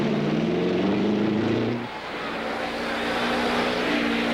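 A race car engine, Eddie Sachs's car restarting at the 1963 Indianapolis 500, holds a steady loud drone that dips briefly partway through and then resumes.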